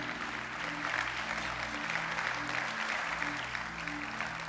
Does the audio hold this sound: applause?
yes